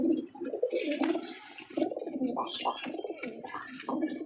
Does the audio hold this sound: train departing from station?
no